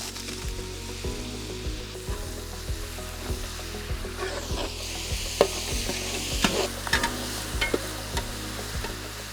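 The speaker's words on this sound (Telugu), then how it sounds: "దీంట్లోనే మనం ఏదైతే ముందుగానే కట్ చేసి పెట్టిన టమాటా ముక్కలు దీంట్లో యాడ్ చేద్దాం." Chopped tomato pieces are stirred and fried in a pan for Afghani-style veg pulao, with a steady close sizzle broken by regular scraping strokes of a spoon, and no voices.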